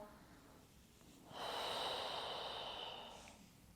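A woman at home awaiting childbirth takes one deep, audible breath during a labor breathing exercise, a soft rushing inhale-exhale rising after a quiet pause and fading over about two seconds, close to the microphone.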